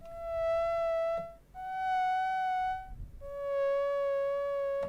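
Yamaha CS-10 synthesizer sounding a lead patch: three sustained bright monophonic notes, each held over a second with gentle vibrato, separated by short gaps and played dry with no talking.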